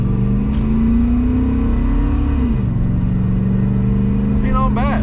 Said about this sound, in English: the erector set exhaust that's under there, it sounds pretty good when you give her the beans